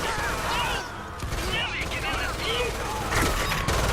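Rapid bursts of gunfire in the video game Lost Planet 2 crackle through a busy, dense mix, with excited voices talking over the shooting throughout.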